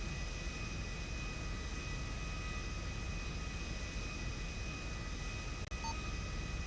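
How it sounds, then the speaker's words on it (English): An aircraft engine drones steadily during takeoff from runway 33 right at LSIA in a flight simulator game, an even, continuous hum at moderate level with one brief click near the end. "Fox Air 26 is taking off runway 33 right LSIA for the Arctic, departing straight out."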